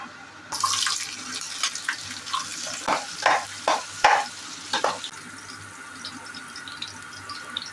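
Finely chopped green chillies go into a pan with cinnamon, cloves, cardamom, star anise and shahjeera for corn fried rice, giving a loud burst of sizzling frying with several sharp stirring clatters that fade after about five seconds.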